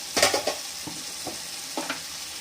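Soft sizzle of garlic and ginger frying in a pan, with intermittent scraping strokes of a spoon stirring, a few quick stirs spaced apart, close and fairly quiet.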